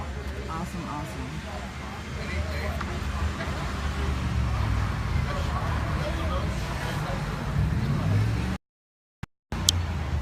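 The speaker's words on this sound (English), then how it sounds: "There's clearly traffic going by." Road traffic rumbles past outside a storefront, a continuous low drone of cars and heavier vehicles moving by, with brief clatters and a sudden cut to silence near the end.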